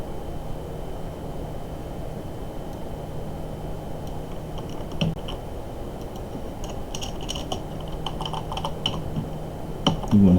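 Fingers type on a computer keyboard in a steady run of soft clicks over quiet background hiss, with a couple of sharper key hits near the end and no talking.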